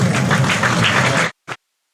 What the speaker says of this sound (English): Half of them were clapping the moment Lyth hit the run, and the other half have just clapped because the PA told them